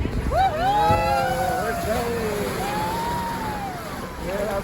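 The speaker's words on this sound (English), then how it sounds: "It's not often you see a bus roll into the water and everybody's not screaming." An amphibious duck tour bus rolls into the water, its motor rumbling steadily amid wind and splashing while voices talk over it.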